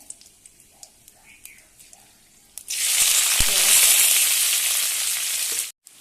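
Whole cumin, cardamom, cloves, cinnamon bark and a bay leaf hit hot oil for vegetable dal, bursting into a loud, steady sizzle after a few quiet seconds of light kitchen noises, then cutting off abruptly near the end.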